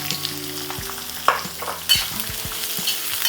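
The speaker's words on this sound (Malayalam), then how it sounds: "ഇത് നന്നായി ഒന്ന് മൂത്ത് പച്ചമണം ഒന്ന് പോട്ടെ, അതുവരെ ഇളക്കി കൊടുക്കുക" Finely chopped large onions frying in a pan for masala paniyaram, a close continuous sizzle with a few sharp stirring scrapes and clicks.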